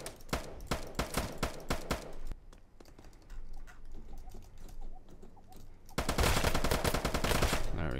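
Rapid automatic gunfire from the Roblox game Apocalypse Rising 2, a fast, loud burst of close shots, then a quieter stretch of scattered activity, then another dense volley of shots.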